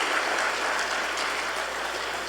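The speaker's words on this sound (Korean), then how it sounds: "따뜻한 환영의 박수 보내주시기 바랍니다" Church congregation applauding in welcome during a Sunday service, an even wash of clapping from a large room, moderately loud and sustained without a break.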